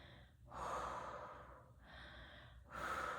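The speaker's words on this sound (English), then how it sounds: "Take a few deep breaths." Slow, deep breaths taken during a hip and thigh stretch: a long exhale, a softer breath, then another strong airy breath, close and clear with no talking.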